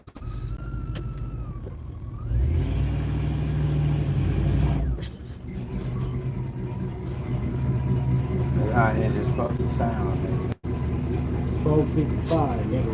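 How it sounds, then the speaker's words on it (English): A car engine runs steadily with a low rumbling idle that swells and settles, a faint squeal rising now and then, with a person talking intermittently. "I know you want to hear the engine."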